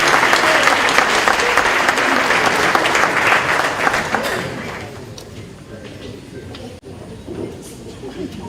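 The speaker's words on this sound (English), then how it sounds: "A warm round of applause for him." An audience at a school re-classification launch claps in a loud, sustained round of applause that fades out about halfway through, and a few scattered claps remain at the end.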